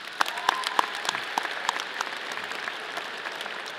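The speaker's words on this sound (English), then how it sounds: "Give yourself a round of applause, everybody." Graduates of Colorado State University's Warner College of Natural Resources clap together at their ceremony, a dense, even patter of many hands sustained for several seconds, moderately loud and without voices over it.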